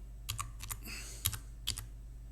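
A few quick keystrokes on a computer keyboard, light close clicks in short clusters over a faint low hum.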